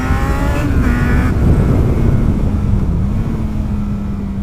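A sports tourer motorcycle engine capable of 12,000 RPM drones loudly under steady throttle, a dense close roar with wind rush and shifting pitch, no voices.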